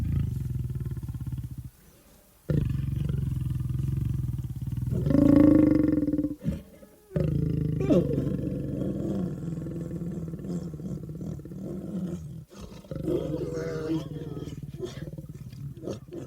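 A lion gives deep, rumbling roars with breathy grunts between them. The calls are loud and close and run in long, repeated bouts with brief pauses.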